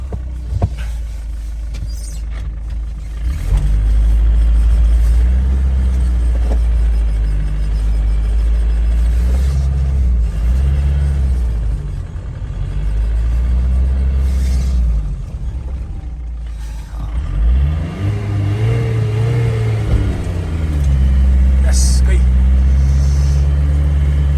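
A Toyota Hilux pushes through deep powdered snow at minus twenty degrees, its engine loud and close, revving up and down in repeated surges in low gear while people talk inside.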